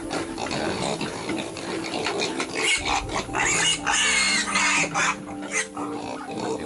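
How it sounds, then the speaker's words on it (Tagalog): Piglets on a farm grunt and squeal busily at feeding time, a dense, close chorus of overlapping oinks and snorts with clattering and rustling throughout. "ngayong araw magpapakain tayo ng biik, kababoy"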